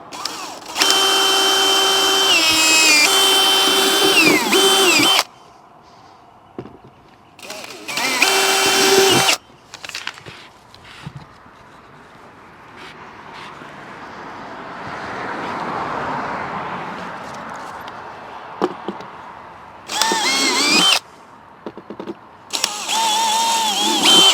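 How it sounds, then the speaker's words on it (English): Power drill whirring in several loud bursts, each a few seconds long, drilling pilot holes on an RV roof for a fridge vent cover, separated by quieter handling noises and a stretch of soft hiss. "So I'm going to go ahead and drill pilot holes here"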